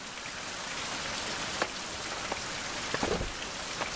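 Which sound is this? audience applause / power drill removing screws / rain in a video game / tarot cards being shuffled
rain in a video game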